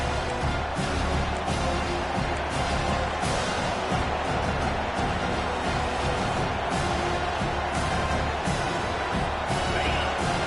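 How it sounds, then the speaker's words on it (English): A packed SEC college football stadium crowd roaring at full volume, a dense, continuous wall of cheering with no letup throughout. "This crowd, full throat, splitting the eardrums and letting them know it's going to be a long day."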